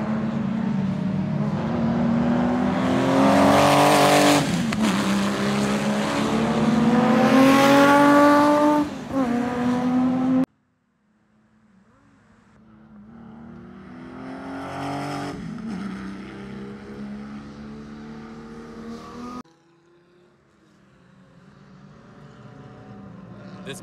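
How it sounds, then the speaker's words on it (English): An RWB Porsche race car laps the TC1000 circuit, its engine roaring loud and rising through gears with shifts and dips, then fading and returning more distantly in later passes. "This Porsche looks so good going around the circuit."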